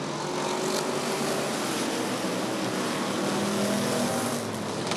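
Race cars roar together on a green-flag restart in a bracket feature at Rockford Speedway, a dense, steady wall of engine noise with faint rising tones running unbroken throughout.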